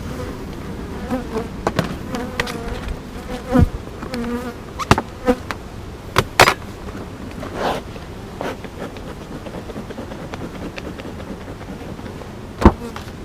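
Honey bees buzz steadily around a hive, with occasional louder passes as individual bees fly close, plus scattered clicks and taps.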